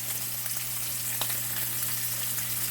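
Steak searing in a pan on an indoor stove, giving a steady, loud, close sizzle with faint crackles and a low hum beneath, no voices.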